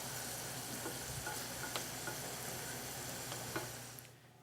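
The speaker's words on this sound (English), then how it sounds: "I can hear that my meat is sizzling a little bit" Ground turkey sizzles and fries in a pan, a steady close crackle with a few scraping stirs, fading out at the end; no one speaks.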